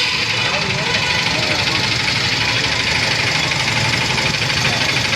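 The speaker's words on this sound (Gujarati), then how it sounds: "આનું એન્જિન થઈ ગયું ભેગું, કરાવીએ તમને ચેક" A motorcycle engine, freshly repaired after racing and gear-shift trouble, runs in a steady, close idle throughout, with a continuous mechanical drone and light rattling vibration.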